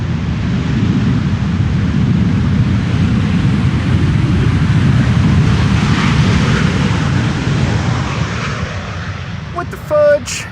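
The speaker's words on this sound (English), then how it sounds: "That is Transavia using reversers." Transavia airliner landing on the Polderbaan runway 18R at Amsterdam Schiphol with its thrust reversers deployed: a loud, sustained broadband engine roar with wind buffeting, holding steady for the whole stretch, then a brief nearby thump near the end.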